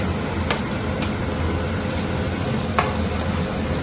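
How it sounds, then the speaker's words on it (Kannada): Paneer cubes and capsicum frying in a pan over a low flame, a steady soft sizzle throughout with a few brief utensil clicks from stirring, close and moderately loud, with no talking. "ಕ್ಯಾಪ್ಸಿಕಮ್ ಸ್ವಲ್ಪ ಫ್ರೈ ಆದ್ಮೇಲೆ ಇವಾಗ ಪನ್ನೀರ್ನ ಆಡ್ ಮಾಡಿಕೊಂಡು ಅದನ್ನು ಕೂಡ ಒಂದ್ ನಿಮಿಷ ಮಿಕ್ಸ್ ಆಗಿ ಫ್ರೈ ಆಗೋವರೆಗೂ ಚೆನ್ನಾಗಿ ಕೈ ಆಡಬೇಕು"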